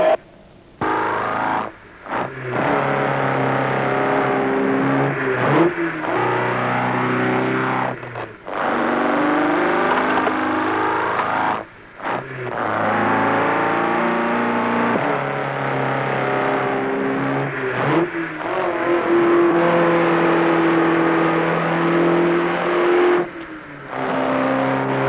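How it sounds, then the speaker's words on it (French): A race car accelerating hard like a dragster at the Grand Prix, loud roaring engine revs that climb in pitch over several long pulls, broken by brief gear-change gaps, close and dominant throughout. "Quel démarrage! Jamais on n'a vu pareille accélération. Un dragster à la puissance 10."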